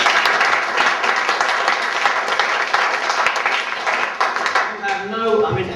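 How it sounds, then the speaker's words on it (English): A room full of seminar attendees gives a speaker a loud, sustained round of applause, dense clapping lasting several seconds before it thins out, with a voice coming in near the end. "Give him another round of applause."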